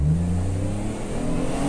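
A tuned 2021 Chevrolet Traverse with a 9-speed gearbox accelerates hard, its engine giving a loud, steady, close-up drone that pulls on without a break, with no talking.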